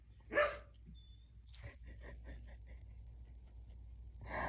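A dog barks once loudly near the start, followed by quieter household sounds and a faint voice, with another sharp bark-like burst at the end.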